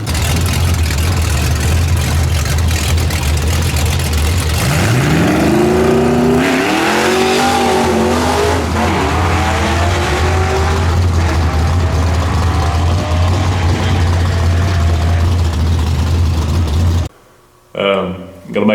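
Foxbody Mustang drag car roars loud and close throughout a pass, its engine note climbing and sweeping through gears before cutting off abruptly near the end.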